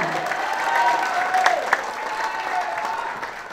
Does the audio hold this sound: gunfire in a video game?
no